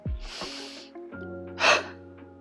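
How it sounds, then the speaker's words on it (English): A sharp breath in followed by two quick, forceful huffs pushed out through an open mouth, close and breathy, with brief pauses between. "we do a high volume huff"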